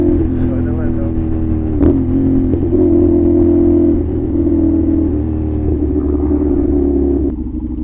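A GMX motorcycle with a loud aftermarket exhaust idles and burbles steadily in traffic, a heavy low drone with brief revs, while people talk over it.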